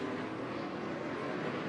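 A NASCAR stock car runs part throttle through the esses at Sonoma during the 2015 Toyota/Save Mart 350. It gives a dense, steady engine roar with broad noise, continuous and fairly distant, with no talk over it.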